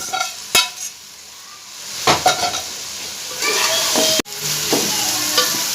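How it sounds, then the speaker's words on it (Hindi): Fried okra tipped into a pan of minced chicken and stirred, with scattered clatters and scrapes over a low sizzle that swells into louder frying midway. "अब इसके अंदर मैं ये जो हमारी फ्राई हुई है भिंडी ये डाल दूंगी"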